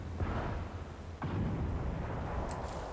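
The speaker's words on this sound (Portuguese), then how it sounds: "tô escutando barulho já das explosões" Muffled, distant explosion rumbles in the Infamous Second Son video game, a continuous low booming roar with a sharper blast about midway and a brief high crackle near the end.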